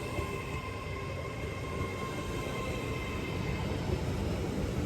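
A continuous heavy rumble of a passing train with a steady roar and faint high tonal whine, loud and sustained throughout, at trackside on the Durham coast with units 800 208 and 801 108.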